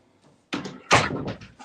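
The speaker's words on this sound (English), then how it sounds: "let me close this door" A door swung shut at home, giving a low thump followed by a louder, close slam with a short rattle as it settles; a softer knock comes just before.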